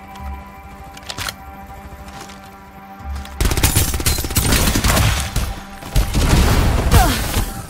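Rapid bursts of automatic gunfire and explosive booms in the video game Farlight 84, loud and sustained through most of the stretch after a quieter opening, with no talk.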